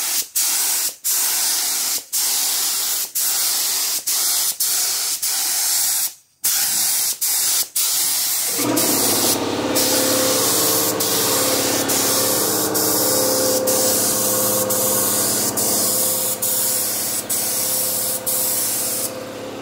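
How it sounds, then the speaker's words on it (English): Rust-Oleum rust protection sprays in a loud, close hiss under a Chevy Cruze RS Turbo, first in short bursts with brief gaps, then as one long unbroken spray. "Gotta put that Rust-Oleum up in there. Make sure nothing rusts out or anything like that."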